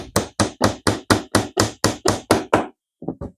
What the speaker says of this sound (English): And I'm using just a light hammer.